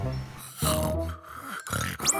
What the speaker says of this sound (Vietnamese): xin bố đừng ngáy nữa